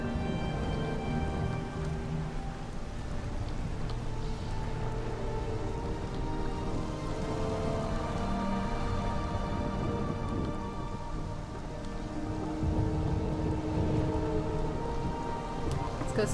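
Steady rain in the video game Morrowind patters over a low, continuous rumble, with faint tonal sounds in the background; no one speaks.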